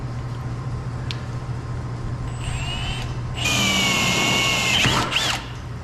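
A power drill line boring with Vevor drill bits, the motor whining steadily and rising into a louder, harsher bite as the bit cuts in, with brief pitch sweeps near the end.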